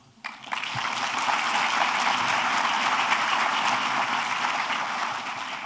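Audience applause at a police and fire Medal of Valor ceremony, a sustained wash of clapping from a large crowd that swells in quickly and holds steady throughout.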